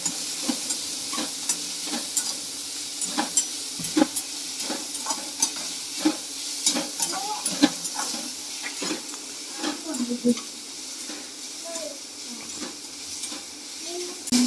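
Onions sautéing in a pan for dhaba-style cooking, a steady sizzle and hiss with frequent scraping stirs of a spatula throughout, close and continuous.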